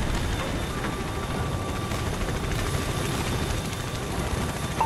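Helicopter rotor drone in a Call of Duty campaign mission, a steady dense thrum with a high whine, loud and continuous throughout.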